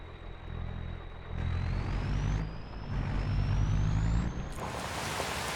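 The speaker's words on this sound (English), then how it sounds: "The truck actually sounds pretty good" A heavy truck engine in Farming Simulator 25 rumbles steadily, with a high whine rising in pitch as it revs, then a sharp hiss of an air brake near the end.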